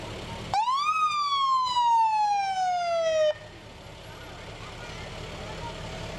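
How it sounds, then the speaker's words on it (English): A 2011 International fire tanker truck's siren wails once during a test at a fair parade, sweeping up quickly and then sliding slowly down for about three seconds before cutting off, loud and close. "We just have to test the sirens to make sure they're all working."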